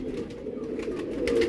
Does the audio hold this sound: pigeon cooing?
yes